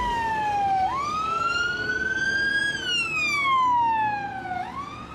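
An ambulance van's siren wails loud and close, sweeping slowly up and down in long rising and falling tones, heard alone without voices.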